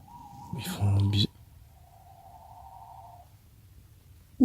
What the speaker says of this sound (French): les chouettes elles commencent à s'énerver en plus.